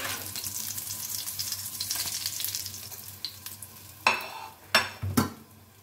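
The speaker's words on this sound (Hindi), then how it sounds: "लाइट लाइट ब्राउन में इसको फ्राई करेंगे।" Shami kebab patties fry in a pan for an anguish-free light browning, a steady hiss and sizzle of oil with a few louder clatters of a spatula against the pan near the end.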